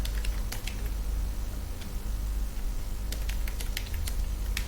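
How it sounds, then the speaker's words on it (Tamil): Computer keyboard keys tapped in short irregular bursts, with clusters of sharp clicks near the start and a busier run of taps toward the end, close and fairly quiet, no voices. "இந்த மாதிரி டைப் பண்ணுறேன்"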